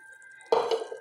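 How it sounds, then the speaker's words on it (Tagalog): Water poured from a glass into a cooking pot while eggplant is being prepared, a sudden close splash and gush that begins after a quiet moment and fades briefly. "Ngayon, lalagyan na natin siya ng 2 glass of water."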